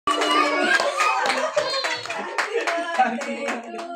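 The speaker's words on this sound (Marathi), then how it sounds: "टाळ्या." Lively clapping from a group at a birthday celebration, hands striking in a quick, uneven patter with children's voices mixed in throughout.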